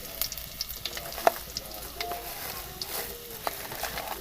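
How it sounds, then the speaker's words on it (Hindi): Finely chopped garlic and red chillies frying in hot ghee for a tadka: a continuous crackling sizzle with scattered sharp pops and spatters, close and fairly quiet, with no talk. "इसके अंदर डालेंगे 4 से 5 जफे लहसुन बारीक कटा हुआ और 4 से 5 अदद रेड चिलीज डाल देते हैं।"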